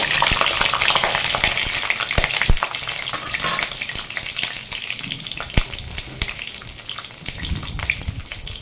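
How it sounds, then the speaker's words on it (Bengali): Pointed gourds (potol) fry in hot oil in a kadai, a loud, dense crackling sizzle broken by sharp clicks and pops from stirring, close up and with no talking. "তেলটা গরম হয়ে গেছে, পটলগুলো হালকা করে ভেজে নেব"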